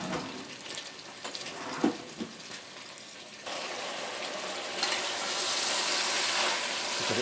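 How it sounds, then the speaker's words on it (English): Water pours into chilli beef soup as a rushing, gushing stream that grows louder and steadier in the second half, with no talking. "Add some water."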